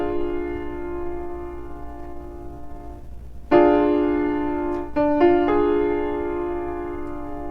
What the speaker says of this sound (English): This is diminished chord.